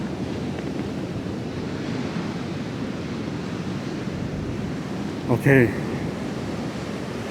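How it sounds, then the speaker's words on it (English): Wind buffets the microphone and ocean surf rolls at Rockaway Beach in New York City, a steady broad roar throughout. A voice speaks briefly near the end. "there's like a wind here"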